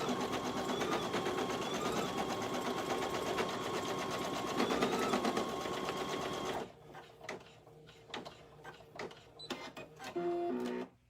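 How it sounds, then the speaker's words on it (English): A sewing machine stitches a placement outline for an ear bud holder, whirring loudly and continuously for about seven seconds, then slowing into scattered clicks and mechanical taps. "We're just making the outline right now, the placement stitch."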